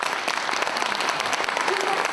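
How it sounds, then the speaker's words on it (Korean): A crowd gives a book-concert audience's steady, dense round of applause for Cheonan mayor Park Sang-don, continuous and fairly loud throughout with no voices standing out. "큰 박수 부탁드립니다"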